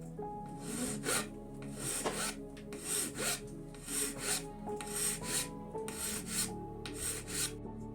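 Hand file rasping against small walnut shell pieces to chamfer edges and flatten backs, a steady back-and-forth scraping in repeated strokes of roughly half a second, close and fairly loud with no talking.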